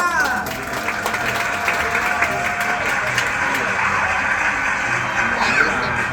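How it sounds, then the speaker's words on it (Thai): Crowd of spectators at a farm sheep show claps steadily for several seconds, fairly close and even, with a few voices and light cheering mixed in. "ขอเสียงปรบมืออีกครั้งให้ลุลา"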